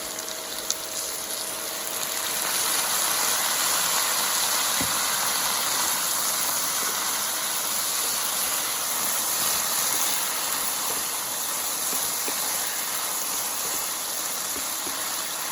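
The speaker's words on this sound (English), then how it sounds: "You'll hear that instantly makes it sizzle and deglaze the pan" Soy sauce or liquid aminos hits a hot pan of sautéed green beans with ginger and honey, giving a steady, loud, broadband sizzle that holds throughout with no talking.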